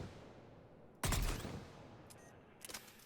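Burst-fire assault rifle shooting in Mass Effect 3: one loud, sharp burst of shots that rings out and decays, followed by a few fainter pops, over a quiet background.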